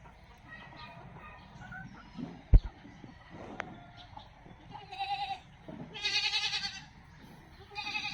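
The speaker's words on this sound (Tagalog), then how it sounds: "yan ang kambing binili natin" Several goat bleats rise out of a noisy farmyard, a couple of loud wavering calls toward the end, with a sharp knock midway.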